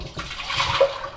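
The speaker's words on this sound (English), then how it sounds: "Here I'm using the kitchen faucet to clean my Rusco spin down filters." Water from a kitchen faucet rushes over Rusco spin down filters being rinsed, a steady close splashing flow lasting about a second.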